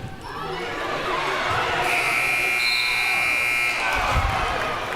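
An end-of-quarter buzzer sounds at a high school girls' basketball game, a sustained electronic tone lasting about two seconds over the steady murmur and cheering of a gym crowd.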